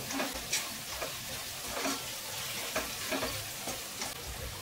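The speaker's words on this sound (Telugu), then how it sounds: "కారం చక్కగా నూనెలో వేగుతుంది అన్నమాట" Chili powder fries in hot oil for a village-style egg curry, producing a soft, steady sizzle with faint stirring scrapes at a regular pace, quiet and close, with no speech.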